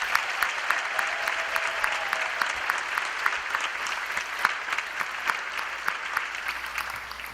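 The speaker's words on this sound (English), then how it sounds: "let's give a round of applause to all the parents present because you truly deserve it" A graduation crowd at Southland College Prep's class of 2018 ceremony gives parents a dense, steady round of applause, many hands clapping at once with a full, even roar and no break.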